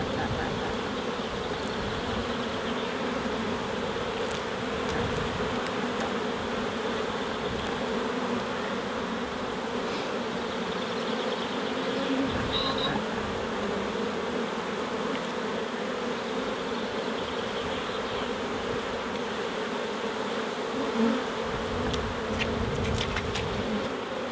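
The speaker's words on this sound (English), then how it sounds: "there's a massive amount of bees in this box" Honeybees crowd a full hive box, filling the air with a dense, continuous buzzing drone that stays close and steady throughout, with no voices.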